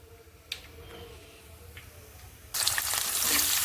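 Faint crackles from hot oil with cumin and mustard seeds, then chopped onions drop in and a loud, sustained sizzle bursts up and carries on, close by.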